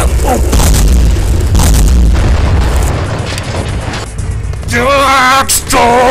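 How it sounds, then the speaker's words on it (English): A loud, deep explosion booms with heavy low rumble for a few seconds, then trails off into quieter debris noise as a voice is heard near the end. "Patterson set off this explosion."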